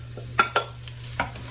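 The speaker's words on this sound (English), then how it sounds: "So I'm just going to brown up this ham now in the vegetables" Diced ham browning with sautéed onions and celery in a pot, a spoon scraping and stirring in a few quick clinks over a soft steady sizzle.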